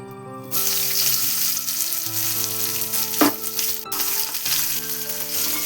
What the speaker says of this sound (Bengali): নেড়ে নেবো ভালো করে লাল করে ভেজে নেওয়া পর্যন্ত ওয়েট করে নেব পেঁয়াজগুলো